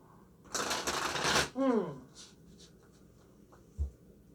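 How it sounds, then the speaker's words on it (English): A deck of oracle cards being shuffled, a dense papery rustle of about a second, then quiet with a voice faintly heard. "We are done with shuffling."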